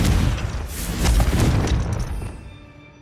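Confringo fire spell blasts in Hogwarts Legacy, a loud booming explosion with crackling burst that swells around the middle and then fades into a decaying rumble.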